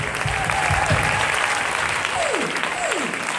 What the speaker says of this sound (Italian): E un applauso a tutti voi.